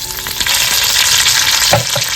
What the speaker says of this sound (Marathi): कढीपत्ता घालतोय